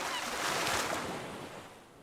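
Ocean waves out on the open sea, a steady broadband wash of surf and water that swells early and then slowly eases over about two seconds, with no voices.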